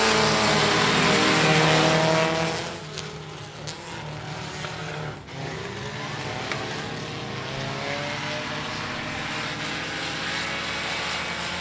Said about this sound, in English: Here comes the Sport Compact Heat Race number 1. Green flag, green light, let's go.